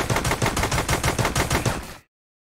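Rapid automatic gunfire from the VR shooter Mercenaries VR, a dense, steady stream of loud close shots for about two seconds that then cuts off abruptly into silence.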